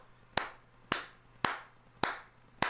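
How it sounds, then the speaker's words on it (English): Five sharp, evenly spaced hand claps ring out alone at a steady rhythm, each one crisp and close with a short decay into a quiet background. "Hand clap that up."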